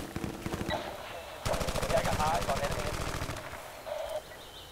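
Sustained automatic gunfire from the video game Battlefield: Bad Company 2, a long steady burst of rapid shots in the middle, flanked by quieter, sparser firing and soft game ambience.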